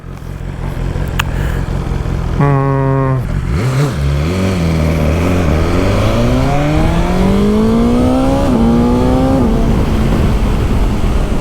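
A 2019 BMW S1000XR motorcycle engine heard up close while riding. It revs up with a loud, rising whine, drops briefly at a gear change, then climbs again in a smooth, strong pull. No voices.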